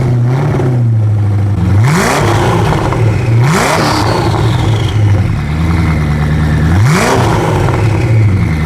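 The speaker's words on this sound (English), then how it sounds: "it would be a crime to shoot a video with the Koenigsegg and not film a couple of engine revs" Koenigsegg Agera RS engine blipped through three sharp revs from a steady idle, each rising to a loud roar and falling back, close and alone.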